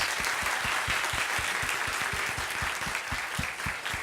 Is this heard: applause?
yes